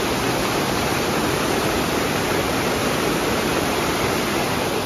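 Devkund waterfall in the rainy season, a thick, unbroken roar of rushing water that fills the whole clip evenly and loudly, with no voices.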